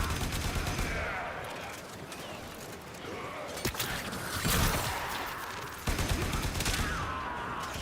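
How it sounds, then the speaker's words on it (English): Gunfire from a weapon in Warframe, with rapid, fairly quiet bursts of shots and mechanical clicks layered over ambient game noise. "This is a lot of pew-pew for this gun."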